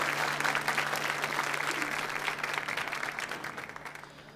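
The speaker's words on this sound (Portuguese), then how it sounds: "Mais uma salva de palmas ao nosso irmão jovens." A youth gathering applauds a young man named Lucas, a brisk round of clapping from a modest crowd over a low steady hum, holding for a few seconds before fading out.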